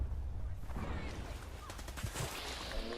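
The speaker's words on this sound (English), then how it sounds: "There I was able to tank 1 shot, 1 rifle round." Rifle gunfire in Fallout 4 comes in a dense, loud burst of shots that overlaps and fills the whole moment, with a few sharper cracks standing out near the end.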